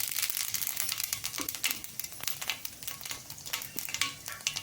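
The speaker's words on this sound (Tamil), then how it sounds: "எண்ணெய் வந்து நல்லா சூடாயிடுச்சு இப்போ வந்து சோம்பு போட்டுக்கிறேன்" Fennel seeds hitting hot oil in a pan, a dense crackling sizzle with rapid popping spatters running steadily throughout at moderate level, no voices.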